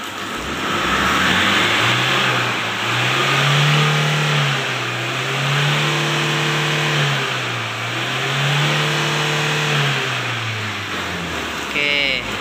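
A Toyota Fortuner diesel engine that pulls sluggishly and blows black smoke is revved repeatedly in long, rising and falling surges, loud and close, with a voice speaking briefly over it.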